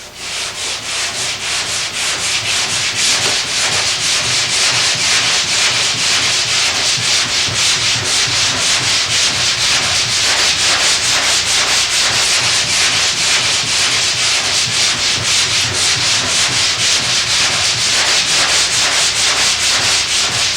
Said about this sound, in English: Just run the block across it smooth. Just take your time and let the sandpaper do the work.